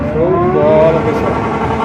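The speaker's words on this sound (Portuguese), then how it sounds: "o cara tá passando um giro ali, pessoal" Motorcycle engine revving hard at an outdoor bike meet in Fortaleza among Hondas and Harley-Davidsons, a loud close roar with rising pitch sweeps over crowd noise.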